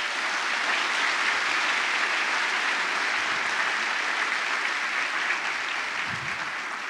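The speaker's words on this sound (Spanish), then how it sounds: "Un aplauso, por favor, para ustedes." Graduation ceremony audience applauding, a dense, steady roar of many hands clapping in a large hall, sustained and loud throughout without pause.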